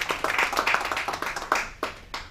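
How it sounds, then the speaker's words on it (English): A small group claps at a chamber of commerce business event, distinct individual hand claps in an uneven rhythm, close and fairly loud, thinning out toward the end. "please let's give him a round of applause."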